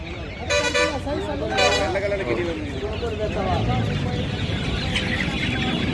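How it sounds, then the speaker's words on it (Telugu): Kadaknath and Giriraja chickens cluck at a busy poultry market, with people talking nearby and a vehicle horn sounding in the background. "ఇవి కడక్నాథ్, ఇవి గిరిజా కోళ్ళు అంట"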